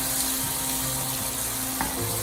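Roasted red peppers and tomatoes sizzling in a pan while being stirred, a steady close hiss with faint scraping underneath.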